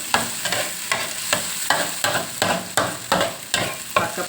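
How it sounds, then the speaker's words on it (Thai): Chicken kaprao with garlic and chili is stir-fried in a hot pan, a ladle scraping in a quick regular rhythm of about ten strokes over a continuous close sizzle, with no talking. "ผัดกะเพรา ใส่กระเทียมกับกระเทียมกับพริกของเราก็เริ่มหอมแล้วนะจ๊ะ"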